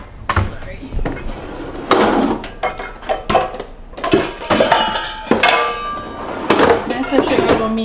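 A bowl is pulled out and handled in a home kitchen, loud clattering and clinking of dishes and cutlery in irregular bursts, close by, with someone talking in between.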